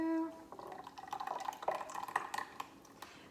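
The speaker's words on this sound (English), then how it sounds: "we're just straining out all of the oat fiber, like so" Homemade oat milk poured through a strainer into a jar, a soft liquid trickling and dripping for a few seconds, fairly quiet and close.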